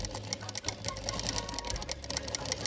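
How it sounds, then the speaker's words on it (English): A sewing machine runs steadily for the whole span, its fast needle rattle close and loud with a rhythmic mechanical chatter, while a velvet Christmas dress is stitched. "I just pressed the foot of this sewing machine"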